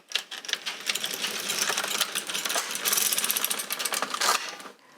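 An LK150 knitting machine carriage pulled across one row of sport weight yarn gives a continuous mechanical rattling and clicking that swells and fades, alone and close.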